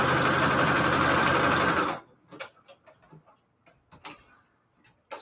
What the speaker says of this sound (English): It is just like very rattly.